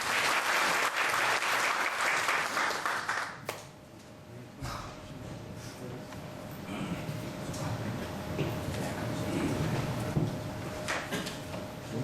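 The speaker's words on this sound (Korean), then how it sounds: "오늘 선생님이신 고야마 게이조 명인을 큰 박수와 함께 소개해드리겠습니다" An audience at an indoor fishing class claps to welcome the instructor, a loud burst of applause that fades after a few seconds into quieter room noise and shuffling.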